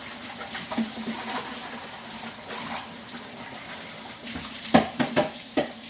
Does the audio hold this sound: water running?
yes